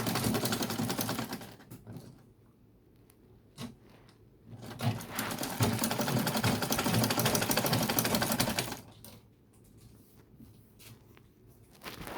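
A sewing machine runs in bursts while stitching close to the edge of elastic tape on ankara cargo pants: a dense, rapid mechanical chatter starting and stopping, with quieter pauses between runs.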